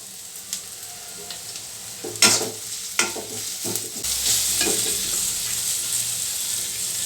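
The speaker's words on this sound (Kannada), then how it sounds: "ನೋಡಿ ಅದೆಲ್ಲ ಫ್ರೈ ಆಗಿದೆ" Ingredients for ridge gourd chutney frying in a pan, a steady close sizzle with a few louder stirring scrapes near the start, then a fuller, denser frying hiss for the rest, with no voices.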